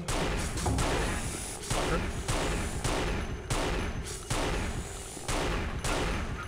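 Repeated sniper rifle shots in the first-person shooter Unreal Gold, aimed at a spider enemy: loud, sharp reports about every second, each followed by a brief decay over a steady game background.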